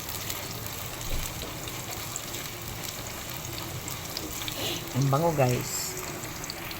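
Aromatics sautéing in a pan at the start of a squid dish, a steady low sizzle and hiss running throughout, with someone briefly speaking near the end over the frying.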